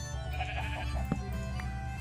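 A sheep bleating in the Minecraft video game, a single wavering bleat over a steady droning game background, with a brief click partway through.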